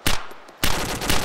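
Automatic gunfire from ArmA 2 with the ACE mod cracks out in loud, close bursts, one short volley followed by a longer rattling burst, with no talk over it.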